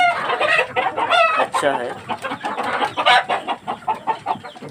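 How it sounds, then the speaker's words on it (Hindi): Sonali desi hens on a small layer farm clucking and squawking, with busy overlapping calls close by that come in continuous bursts, and someone speaks briefly among them. "ये देसी मुर्गियाँ है"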